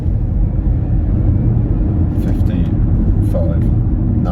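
A Ford Mustang Mach-E electric car accelerates hard, a steady loud road and motor rumble filling the cabin throughout, with faint higher whines and brief sounds appearing toward the end.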